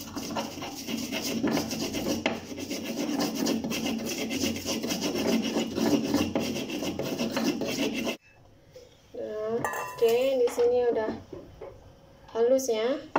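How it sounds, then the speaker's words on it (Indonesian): Eggplant sambal with salt is ground in a stone mortar, a steady rough scraping and rasping that continues for about eight seconds before stopping, and then someone talks. "dan aku ulek."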